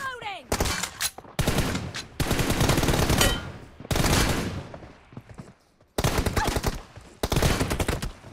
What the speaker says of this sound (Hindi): लग गया भाई आखिरी शॉट लगा, इन्हीं का हेड शॉट ही लगा वैसे